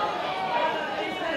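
A football stadium crowd at an A-League women's match between Newcastle Jets and Wellington Phoenix gives off a loud, mixed murmur of reaction after a contested ball, a steady roar of voices with no single call standing out.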